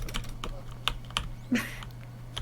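A loud mechanical computer keyboard gives out scattered sharp key clicks, close and distinct, spaced irregularly over a constant low hum, with one heavier thud midway.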